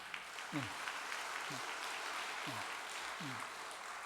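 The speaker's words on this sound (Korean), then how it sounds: "박수 한번 보내겠습니다" A lecture audience at a Korean civic talk on unification applauds, a steady, fairly faint clapping that carries on for about four seconds with no speech over it.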